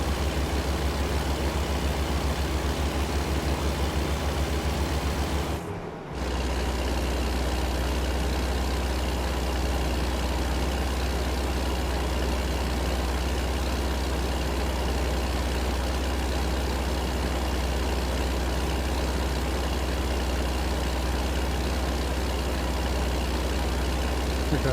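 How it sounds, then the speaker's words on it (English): In American Truck Simulator, a truck engine drones loud and steady at close range, a deep continuous rumble broken only by one brief dropout. "Oh, listen to that engine."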